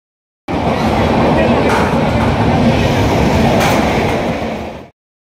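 Kandari Express passenger train rolling into Digha, a loud steady rumble of carriages with faint clatter, starting abruptly and fading out after about four seconds, with voices mixed in.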